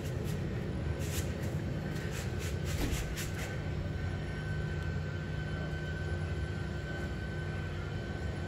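Flight simulator aircraft engine heard on a 6DOF motion platform during a full power takeoff run, a steady, fairly faint droning hum, with a few brief mechanical ticks early on.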